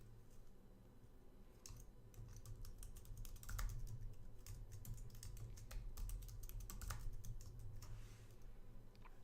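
Keys clatter on a computer keyboard in quick, uneven bursts as a passphrase is typed, close and fairly quiet, with no voices.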